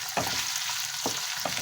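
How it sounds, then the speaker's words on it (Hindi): Potatoes fry steadily in hot oil with a constant crackling sizzle, punctuated by a few soft scraping stirs. "ये हमारे आलू फ्राई हो रहे हैं"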